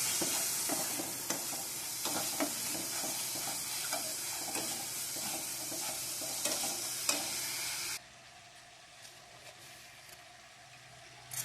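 Masala frying in a pan while being stirred, a dense, bright sizzle with repeated scraping strokes for about eight seconds, then dropping abruptly to a quiet low hiss.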